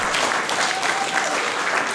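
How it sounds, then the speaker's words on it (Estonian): Audience applause at an Estonian stand-up comedy show, a dense, steady wash of many hands clapping throughout, fairly loud and close, with no talk over it. "mis me plaksustame"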